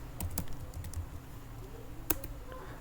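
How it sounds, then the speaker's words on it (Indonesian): A few sharp keypresses on a computer keyboard as arrow keys are tapped, scattered clicks over a low steady hum, quiet and close. "kita pencet tanda panah yang di keyboard kalian ke atas"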